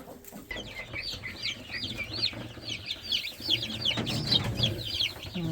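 Odessa crested chickens and their chicks cluck and peep steadily at close range, a busy overlapping chorus of short calls with faint rustling beneath.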